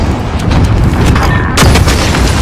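An airstrike in the video game Modern Warfare, a loud, dense barrage of booming blasts and crackling impacts, with a sharp heavy hit partway through over continuous rumble.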